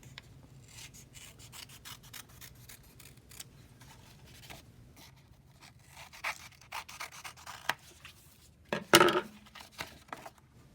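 Scissors snip curved lines through paper while an Easter basket shape is cut for weaving, with soft rubbing and scattered close cuts and one sharper, louder snip near the end.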